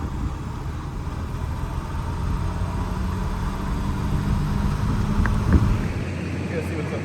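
A 1972 Volvo 164E pulls away with a steady low engine rumble mixed with wind buffeting, holding fairly even before a brief thump near the end.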